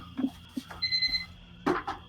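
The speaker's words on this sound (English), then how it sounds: "that was the alarm that I was set for my washing machine" A washing machine alarm beeps with a short electronic tone, faint and brief, among soft background knocks and a voice.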